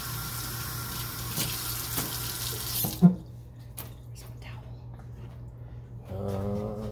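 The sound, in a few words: rinsing hands under running tap water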